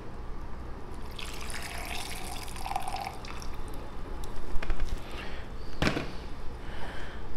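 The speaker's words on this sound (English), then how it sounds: "Push down on the French press again and pour." Liquid from a French press pours as a dragon fruit cocktail is poured out, giving a steady trickling, dripping stream with a brief sharper splash near the end, close and fairly quiet.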